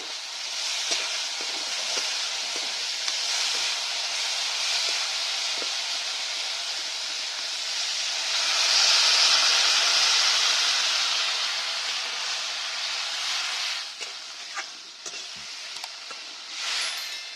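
Water poured into spice masala frying in oil for an egg curry, a loud continuous hiss swelling to a peak midway, then settling into a bubbling simmer with a few clinks.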